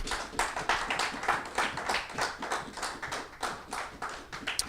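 A church congregation applauds for a few seconds, a steady dense patter of clapping hands with rhythmic pulses, fairly close and full, with no speech over it.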